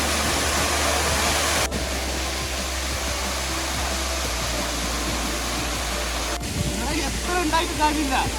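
Steady rushing spray from Ezharakkund Waterfalls roars like a broad hiss, constant and close, with voices speaking faintly underneath.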